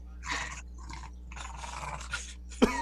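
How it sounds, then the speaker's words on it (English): A dog lets out short gruff barks and a low growl in a home during a conversation, in brief bursts with a sharp louder yelp near the end. "Sorry, that's my dog."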